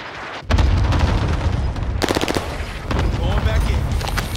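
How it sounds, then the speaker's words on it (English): Cluster airstrike explosions and automatic gunfire from Call of Duty Warzone sound together in a loud, continuous barrage of rapid shots and booming blasts, with game voice lines mixed in. "Airstrike target designated. That's your request. Cluster strike is active."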